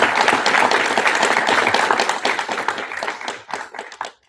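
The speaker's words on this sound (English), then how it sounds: "let's give a nice round of applause for our panelists." An audience claps for the panelists at a neural engineering forum, a dense round of applause that holds steady for a couple of seconds, then thins into scattered claps and fades out.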